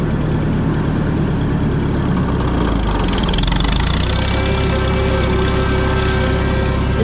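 A Minneapolis-Moline ZB farm tractor running steadily in fourth gear, its engine a loud continuous low drone and rumble heard close up throughout with no pauses.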